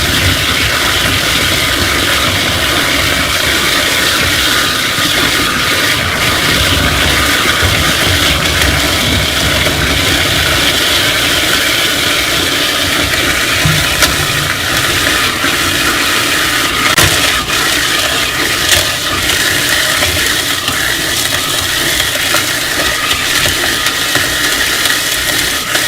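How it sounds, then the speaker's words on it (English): A garbage pump on a Digesterponics system runs with a loud, unbroken mechanical whir and rush, holding steady and close for nearly half a minute with no voices over it. "Now I'll do the garbage pump."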